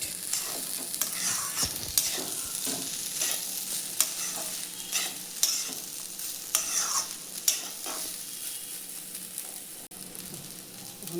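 Pulao fries and is stirred in a pan. A steady sizzle runs throughout, broken by repeated scraping and clinking of the spoon at irregular intervals.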